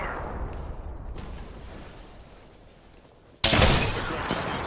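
Video game gunfire, a loud abrupt burst of shots erupting after a quiet stretch of low background noise.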